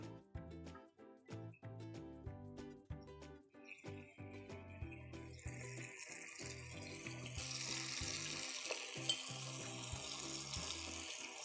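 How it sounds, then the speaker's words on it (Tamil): Mutton pieces for mutton 65 deep frying in hot oil: a bright, steady sizzle swells in about halfway through and keeps hissing over background music. "ஓகே, எண்ணெய் நல்லா பாயில் ஆயிடுச்சு. இப்போ நம்ம டீப் ஃப்ரை பண்ணிக்கலாம்"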